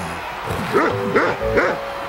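A cartoon puppy in an animated football series yips three times in a quick, evenly spaced run of high, bouncy barks over a low background.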